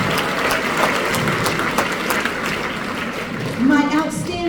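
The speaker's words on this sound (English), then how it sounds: "we'll give her a round of applause and she'll hear it wherever she is" Applause from a school orchestra concert audience, dense and steady. A voice starts speaking over it near the end.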